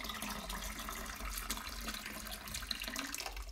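Water poured back into a container while changing the water of a Monstera or Philodendron cutting, heard as a steady, soft trickle and splash throughout, faint and close, without talk.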